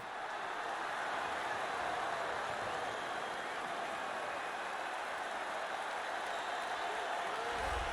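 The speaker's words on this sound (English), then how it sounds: "what a pop from the crowd as this guy makes the walk" A dense, steady roar of arena crowd cheering and applause in the video game UFC 3 fills the whole stretch as a fighter walks out, loud and continuous with no letup, a faint voice murmuring underneath.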